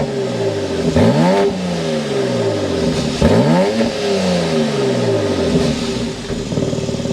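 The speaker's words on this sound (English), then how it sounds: "start it up, so you can hear that exhaust note" A 2024 BMW X4 M Competition's exhaust roars through two sharp revs that rise and fall, then settles into a throaty idle, loud and close.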